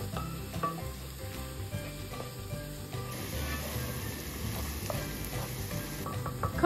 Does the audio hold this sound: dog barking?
no